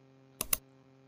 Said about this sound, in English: press Windows plus R key on the keyboard and here type control or control panel